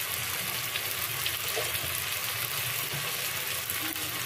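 Spices frying in a pan before katla fish head goes in, a low steady sizzle with faint crackle throughout, fairly quiet and close, with no talk.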